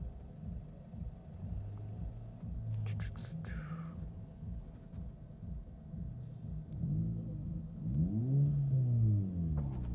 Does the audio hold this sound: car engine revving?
yes